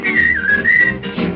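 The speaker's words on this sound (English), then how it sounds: "whistling" Someone whistles a short, bright melody up close, the notes sliding smoothly for about a second before a brief pause and a final note.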